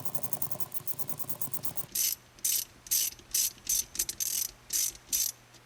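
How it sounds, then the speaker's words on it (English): A 7mm socket ratchet tightening a screw on a 2015 Mustang shifter, a rapid run of close clicks followed by about eight separate bursts of ratcheting strokes at a steady rhythm. "We'll grab our 7mm socket, and we'll just start tightening that up until that roll pin wants to come out of there."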